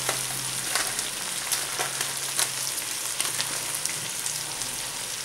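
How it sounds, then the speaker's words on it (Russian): Carrots sizzling and frying with chicken in a pan for pilaf, a steady close crackle with occasional stirring scrapes throughout. "обжариваем морковь еще минут 7-8"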